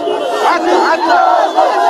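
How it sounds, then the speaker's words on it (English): Crowd in the streets of Tripoli celebrating a capture, a dense mass of shouting and cheering voices, loud and continuous, with chants rising and falling. "celebrations erupted on the streets of Tripoli"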